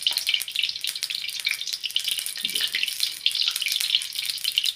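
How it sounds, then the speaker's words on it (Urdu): Fenugreek and potato pakoras fry in hot ghee, giving a steady, dense crackling sizzle that runs without a break for about five seconds. It is close and fairly loud, with no voices. "اب ہم نے یہ گھی گرم ہو گیا، اس میں ہم ڈالیں گے پکوڑے۔"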